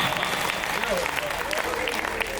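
An audience at a Hindi comedy poetry show applauds in a steady wash of clapping, with a voice speaking over part of it.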